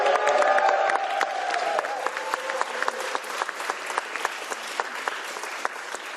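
An audience at a governor's bill signing ceremony applauds steadily. A voice trails off as the clapping starts, and dense, even hand claps fill the room at moderate distance, with a few louder individual claps standing out.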